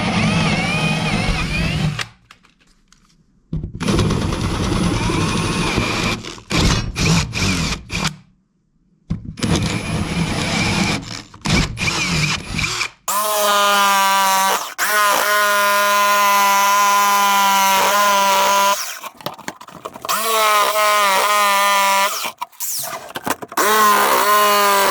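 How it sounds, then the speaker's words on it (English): A jigsaw cuts a notch out of wood while building a heavy-duty workbench. Its motor whines loud and close in repeated bursts that start and stop, with short quiet gaps between runs. "then we're going to get our jigsaw"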